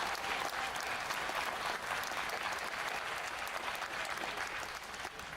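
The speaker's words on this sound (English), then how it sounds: "But give them a hand of applause, please." At a British Columbia civic celebration, an audience applauds: a dense, continuous wash of many hands clapping at once. The sound is moderately distant and holds steady for several seconds, easing slightly at the end, with no speech over it.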